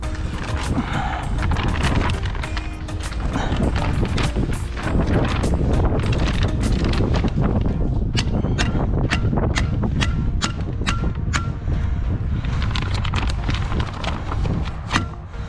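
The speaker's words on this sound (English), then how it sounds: "You can already see the wind just wreaking havoc." Strong wind gusts through a wind storm, roaring steadily and loudly across a construction site wrapped in vapour barrier, with sharp flapping and rattling snaps scattered throughout.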